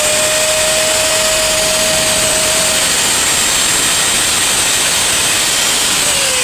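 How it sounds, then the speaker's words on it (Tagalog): A repaired angle grinder with a fixed gear runs steadily, giving a loud continuous whirring roar with a high whine that holds for the whole stretch. There is no talking. "Okay na tong ating ni-repair na grinder."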